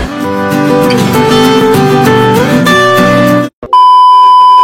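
Loud, busy music plays on a city bus, then after a brief pause the bus card reader's electronic beep rings out as a steady, sustained tone.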